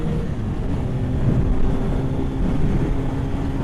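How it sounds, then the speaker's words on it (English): Windstorm gusts batter a motorcycle rider's action-camera mic on the road, making a steady, loud low rumble of buffeting wind noise that swells slightly midway. No speech is heard. "Oh geez, it's windy."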